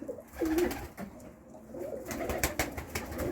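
Pigeon cooing close by in a loft, a few soft throaty coos with light rustling and bird movement around them.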